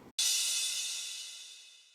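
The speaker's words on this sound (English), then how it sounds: "Normal crash cymbal." A single crash cymbal hit with no chorus effect, bright and washy, sustaining and slowly fading over about two seconds with nothing else playing.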